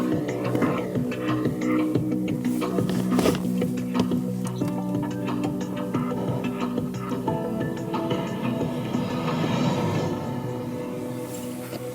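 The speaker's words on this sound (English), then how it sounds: "how to turn off the introduction music when you open the car" Welcome music from a Chery Tiggo 7 Pro that plays when the car is opened: a steady, moderately loud electronic melody with sustained tones and light ticking accents running throughout, with no talk.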